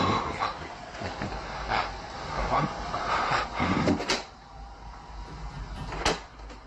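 A closet door slams shut in a dim room, giving two sharp knocks, around four and six seconds, over a steady murmur of background noise.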